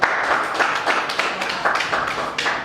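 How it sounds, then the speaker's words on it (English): Audience at a book event in Ajegunle applauding a poetry performer, a brief burst of clapping from a modest crowd, fairly close and uneven, with no voices over it. "A round of applause for her now"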